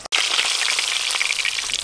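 Fish fries in hot oil in a pan with a steady, loud, close sizzle and crackle that starts abruptly after a brief pause and runs without letting up.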